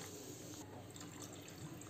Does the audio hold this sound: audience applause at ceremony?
no